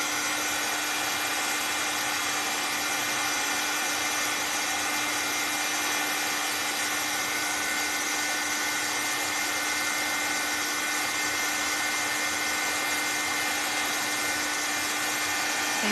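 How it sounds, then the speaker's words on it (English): A blow dryer runs steadily at close range for the whole stretch, a loud, even rush of air with a faint constant hum under it, drying a thick coat on a small set of pieces. "So I'm gonna hit this with the dryer because it's pretty thick and it's gonna take some time to dry."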